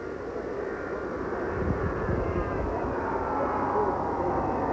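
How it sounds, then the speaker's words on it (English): A jet aircraft approaching Love Field in Dallas, 1963: a steady, loud, broad engine roar that holds evenly throughout with a low rumble underneath, heard at a distance outdoors. "It's another jet approaching now."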